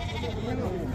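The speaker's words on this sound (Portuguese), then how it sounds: "Até esses bodes, meu patrão." Goats bleat amid the bustle of a livestock fair, a goat and pig market in João Alfredo, Pernambuco, with close calls mixed under steady crowd chatter and people talking nearby.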